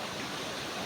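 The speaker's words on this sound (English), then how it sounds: "a video of the sound of the waterfalls" Waterfall on a hiking trail to Sirao Peak in Cebu, a steady close rush of falling water filling the whole short stretch with no voices.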